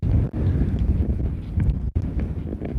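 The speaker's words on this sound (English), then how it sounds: "It's a little bit windy." Wind buffets the microphone in a loud, continuous low roar that briefly drops out twice.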